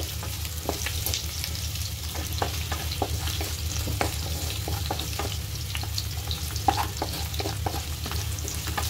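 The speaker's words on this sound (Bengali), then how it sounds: "পেঁয়াজগুলো একটু হালকা ভেজে নিব, একটু লাল লাল হলে চিংড়ি মাছ দিয়ে দিই।" Onions fry lightly in a pan, a constant close sizzle broken by frequent scraping and clinking stirs at an irregular rhythm, with no talking.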